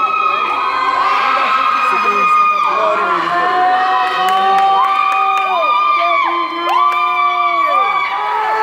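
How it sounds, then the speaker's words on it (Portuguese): Excited fans at a regional goalball match in northeastern Brazil, 2019, ADEVIRN versus IERC-RN, cheer and shout loudly with rising, swooping voices and whistle-like wails filling the indoor gym continuously. "Olha a torcida como tá."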